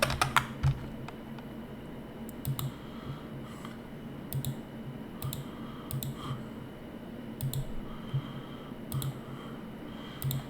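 Computer keyboard typing and mouse shift-clicking during a Photoshop session, a steady run of light clicks and key taps in irregular bursts, close and moderately quiet with no talking.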